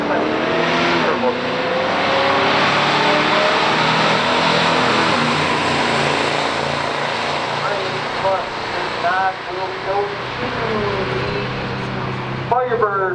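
A 1979 Pontiac Firebird Trans Am with a 403 Oldsmobile engine and turbo 350 transmission drag races a 1971 Buick GSX in pure stock racing, loud engines roaring and rising in pitch through gear changes, with an announcer talking over them throughout.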